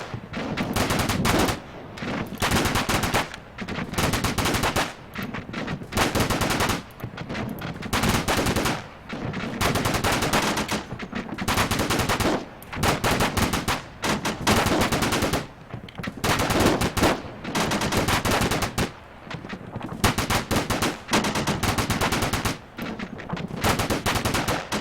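Machine guns in the video game ARMA 3 fire long, loud sustained bursts, separated by short pauses, across an intense battle with heavy gunfire throughout.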